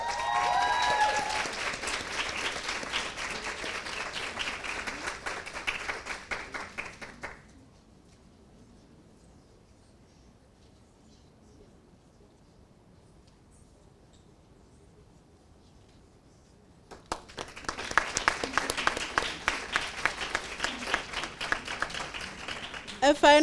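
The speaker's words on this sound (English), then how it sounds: "A final round of applause for our future mental health practitioner." Applause rises from the audience at a peer mentor certificate ceremony, fades into near silence for several seconds, then swells again into a second round of clapping near the end.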